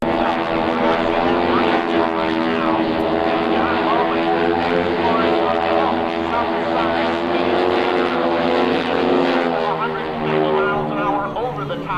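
Red Baron Squadron propeller planes flying in formation at an air show, giving a loud, steady, multi-layered engine drone that holds through the whole stretch with no pause.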